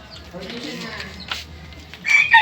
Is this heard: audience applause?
no